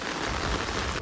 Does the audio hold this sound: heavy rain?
yes